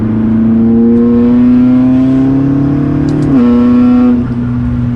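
A tuned McLaren MP4-12C supercar accelerates hard through a turn, its loud engine note rising steadily in pitch, dipping sharply for a shift, then pulling again from inside the cabin.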